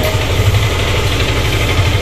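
A Yamaha Lexi scooter engine runs steadily after an error code reset, a close, even idle with a faint rhythmic knock and vibration throughout.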